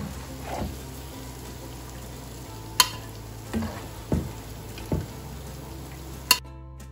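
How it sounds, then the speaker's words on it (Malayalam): Chicken frying in hot oil as pieces are scooped out with a ladle: a continuous low sizzle with several distinct clinks and scrapes of the utensil against the pan, no talking. "ഇപ്പൊ ചിക്കൻ നല്ല ഫ്രൈ ആയിട്ടുണ്ട് അപ്പൊ കോരി കോരിയെടുത്ത് ഒരു ഡിഷിലോട്ട് വെക്കാം"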